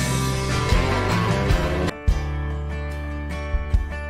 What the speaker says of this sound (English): Looks like we're back again with another outro instrumental.